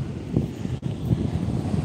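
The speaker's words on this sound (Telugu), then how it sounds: "వావ్ పెద్ద పెద్దగా వస్తున్నాయండి అలలు అయితే" Big ocean waves at a beach in wind and rain, a dull continuous roar with surging low rumbles and microphone wind buffeting, close and steady with no talking.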